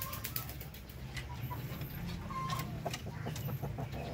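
Darag native chickens on a farm cluck and call in a busy, overlapping chorus, with a rooster's crow and clucks rising over a steady farmyard background at moderate distance.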